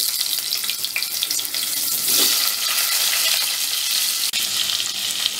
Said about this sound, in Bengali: এই ফোড়নটার মধ্যে এবার আমি এই আলুগুলো ছেড়ে দিচ্ছি।